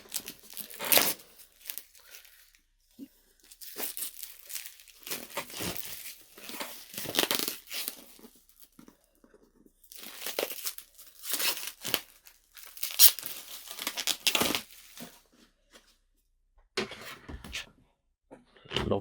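Collector's box packaging for The Legend of Heroes: Trails being opened with scissors, with bursts of crinkling plastic and tearing wrap, close and intermittent, separated by short quiet gaps.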